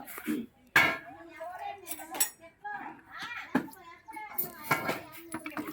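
Tobacco solution for treating plant pests is stirred in a container, giving irregular clinks and scrapes of a utensil against the sides, close by, with voices talking in between.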